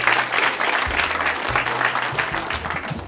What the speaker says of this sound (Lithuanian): Plojimai